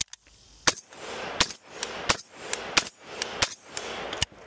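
An AK47-pattern rifle in .308 with an Unrivaled muzzle brake fires six single shots at a steady pace, each a sharp crack followed by a short, echoing tail. The shots are moderately loud and come without any talk.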